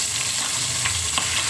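Milkfish (bangus) frying in a pan, a steady broadband sizzle with faint crackling pops throughout, close and moderately loud with no talking.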